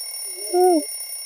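An alarm clock goes off in a bedroom on the first morning of a new job, one short warbling tone that rises and falls, clear over a steady faint electronic hum.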